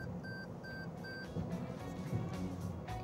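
Three short, evenly spaced electronic lane departure warning beeps from a 2019 Toyota Corolla Hatchback sound early on, then stop, over a steady low road and engine hum.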